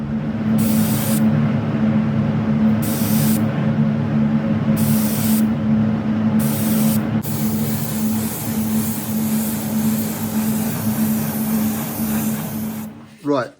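Lacquer is sprayed onto a Tama Superstar split-lug 14x8 snare drum shell in short hissing bursts, four separate sprays and then one long continuous spray, over a steady workshop hum with talk nearby.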